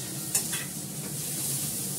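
Tomato and carrot tipped into a pan of lightly fried onions, giving a steady close sizzle with a quick scrape or clatter near the start.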